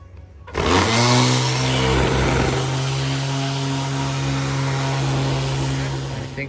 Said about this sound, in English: Right now we're sanding, starting off with 80 grit